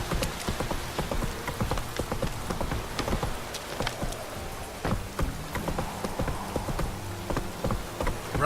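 Horse galloping through rain in The Witcher 3: steady, close clip-clop of hooves over a constant patter of rainfall, with no talking.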